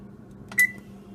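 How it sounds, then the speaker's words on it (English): An oven gives a single short, clear electronic beep while being set to preheat, with a quiet room hum around it. "we're basically gonna preheat the oven now to 325 degrees"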